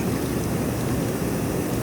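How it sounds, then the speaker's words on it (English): Water from a Wellis hot tub spa waterfall pours in a continuous, close rushing splash, a steady broadband wash without breaks. "There's that waterfall."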